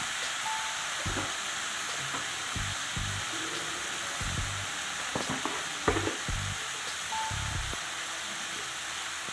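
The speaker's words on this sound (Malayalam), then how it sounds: "ഒന്ന് ഇളക്കി കൊടുക്കാം" Pachadi curry with turmeric being stirred in a pan: a constant soft frying hiss with regular, rhythmic scraping strokes of a spoon against the pan.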